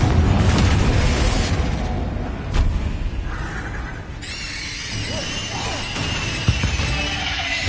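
A spell explosion from the Confringo spell in the Hogwarts Legacy video game, a loud broadband boom followed by rumbling debris and crackling game effects that fade into a lower ambient wash inside a tomb.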